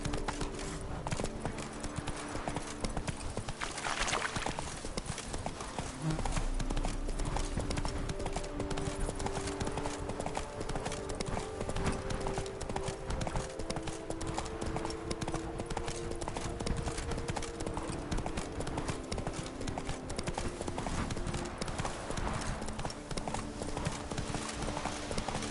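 Roach, the horse in The Witcher 3, gallops in a steady clip-clop of hooves over continuous game music and ambience, strong and close throughout.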